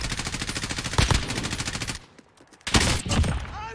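A green AK rifle fires sustained rapid automatic bursts in the Warzone video game, loud and close, with a brief lull before the firing resumes.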